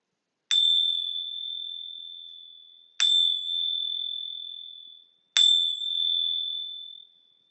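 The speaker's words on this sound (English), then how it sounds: "begin awakening with these 3 chimes" Three clear, bright chimes close a yoga session, evenly spaced a couple of seconds apart, each struck sharply and ringing out slowly into silence.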